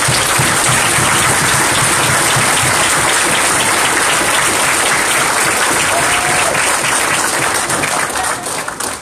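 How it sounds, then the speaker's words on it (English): Loud, dense applause from a large audience at an Israelite summit in Atlanta, steady and continuous before tapering slightly at the end. "we just want to give him a round of applause again"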